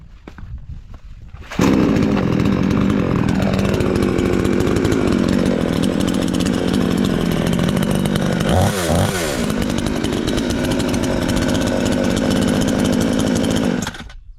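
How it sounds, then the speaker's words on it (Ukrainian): A cheap Chinese chainsaw engine catches after a quiet moment and runs loud and steady up close, with a brief rev partway through before it idles down at the end. "Все, коротше, пилка робить, пилка шикарна"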